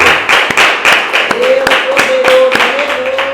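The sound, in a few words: church congregation clapping in praise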